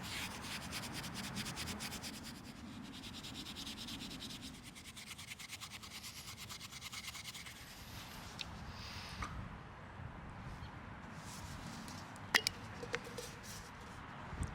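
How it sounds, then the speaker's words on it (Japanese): Soft, steady rubbing and scratching as 00 steel wool polishes a hand-carved wooden lotus spoon after epoxy has been removed, faint and close, with a few sharper ticks near the end. "それから00番のスチールウールで磨いていきます。"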